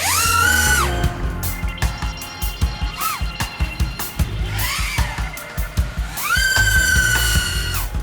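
An FPV drone runs its motors on a 6S LiPo battery, giving a loud, high-pitched whine that sweeps up and down with throttle punches, surging to sustained high-RPM screams near the start and again near the end, with no talking.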